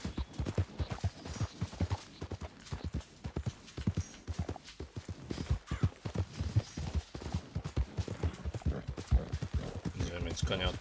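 Horse hooves clip-clop in a steady walking rhythm in the Red Dead Redemption 2 game, a continuous run of close, even hoofbeats with faint ambient background throughout.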